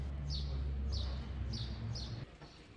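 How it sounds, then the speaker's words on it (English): Birds chirp and sing in a town piazza in Piana degli Albanesi, Sicily, with four short bright chirps repeating about every half second above a steady low outdoor hum of traffic and murmur. "The birds sing, probably in Albanian."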